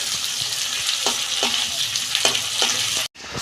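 Soybean chunks fry in a pan for a chilli soybean dish, a steady loud sizzle with several sharp scraping stirs spaced through it, cutting off abruptly near the end.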